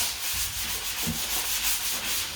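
Drywall compound is sanded with a continuous, close, gritty rasp that pulses slightly with each back-and-forth stroke and has no voices over it.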